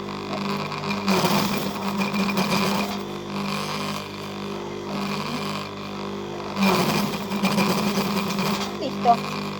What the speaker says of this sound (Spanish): Le coloco la tela por debajo, ¿sí? Para coser, para evitar todo tipo de